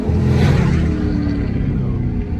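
Dodge Charger slowing toward a stop sign as it downshifts through the paddle shifters, the engine giving a loud, close rumble that briefly swells and then settles into a steady drone.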